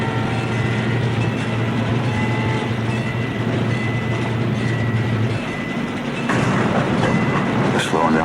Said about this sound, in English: Sounds like we're moving along with the train.